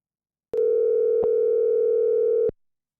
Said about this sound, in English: let's see if we can get Keith on the line. Probably should have had his phone number ready to rock